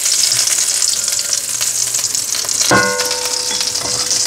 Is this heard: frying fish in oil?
yes